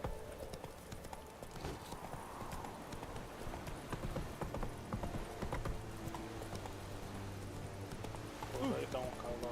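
Horse hooves clop steadily through a fantasy video game scene, with a rhythmic trot under ongoing game sound and voices talking over it.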